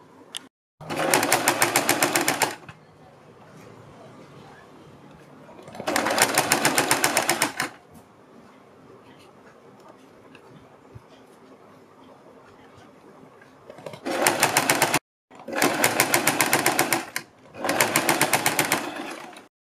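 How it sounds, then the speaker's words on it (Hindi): A sewing machine stitches a folded fabric strip for a kurti neckline in several loud, close bursts of rapid whirring, with quiet pauses and handling between runs. "फोल्ड करने के बाद हम यहाँ पर सिलाई लगाएंगे"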